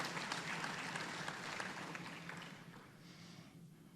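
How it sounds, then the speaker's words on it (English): Applause from a chamber of commerce monthly luncheon audience, dense clapping that holds steady and then thins and fades over a few seconds. "Please give them another round of applause."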